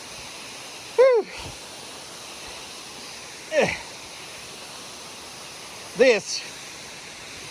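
Benton Falls waterfall: a steady, broad rushing of falling water fills the scene, while a person briefly speaks over it and a few short chirpy calls break through.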